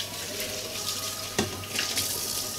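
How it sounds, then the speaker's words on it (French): Tap water runs steadily over a frying pan being rinsed after browning beef, a continuous close splashing hiss with a brief louder knock of the pan midway, no talking. "vous nettoyez, vous rincez votre poêle"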